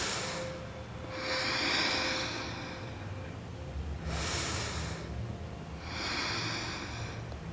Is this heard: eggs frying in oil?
no